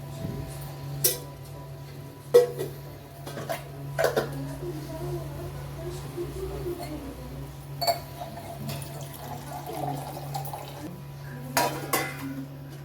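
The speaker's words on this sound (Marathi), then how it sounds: "आपण अशी कढई ठेवू, मध्ये एक उकळी तेल घालू" A wok is set on the stove and oil poured in for egg curry. Scattered metallic clanks and knocks stand out over a steady low hum.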